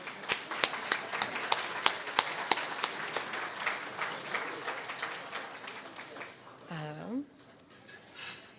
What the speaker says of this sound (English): I ask that we give one quick round of applause to our sponsors again